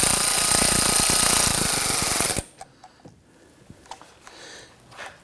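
Power tool loudly tightens hardware on the right side engine splash shield of a 2011-2015 Kia Sorento, a dense rattling whir lasting about two and a half seconds, then stopping abruptly into quiet with a few faint clicks and taps.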